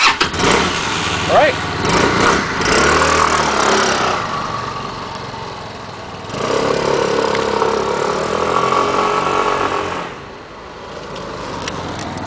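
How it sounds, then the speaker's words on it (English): A Linhai Aeolus scooter engine cranks and catches, then settles into a buzzing idle that swells and dips with throttle, close and fairly loud, with brief speech early on. "let's take it for a spin. Let's see how it sounds."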